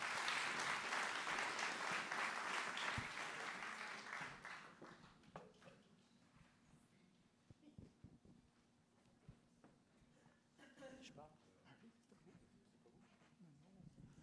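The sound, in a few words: audience applause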